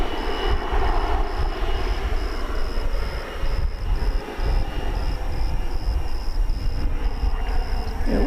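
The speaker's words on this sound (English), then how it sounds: "American Eagle 3372 from Laredo is an Airbus, an Embraer 170 arriving from" American Eagle Embraer 170 regional jet arriving at DFW Airport, a steady broad roar of engines at moderate distance, continuous and without voices.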